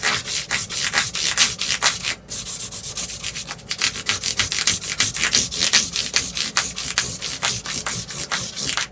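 Folded 600-grit sandpaper rubs back and forth across guitar frets in quick, even strokes, a close, dry scratching rhythm with one brief pause, with no one talking.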